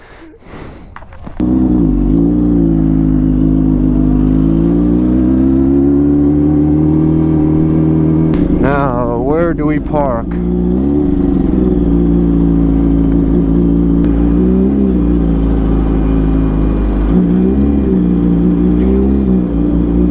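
A straight-piped motorcycle engine idles loud and close with a steady low rumble, swelling into a brief revving surge about halfway through before settling back to a throbbing idle; a voice speaks over it briefly.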